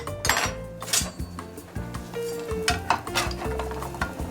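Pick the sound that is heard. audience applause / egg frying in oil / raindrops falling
egg frying in oil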